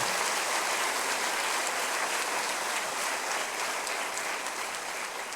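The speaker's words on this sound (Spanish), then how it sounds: "Dale un aplauso al Rey." Church congregation applauding during a Spanish-language sermon, a dense, steady wash of many hands clapping that holds evenly for the whole stretch and eases slightly near the end.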